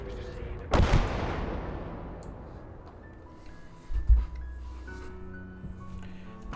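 Artillery fire in the World War II game Blood Red Snow: one heavy boom with a long fading tail, then a second low thud about three seconds later, with someone talking over the battle noise.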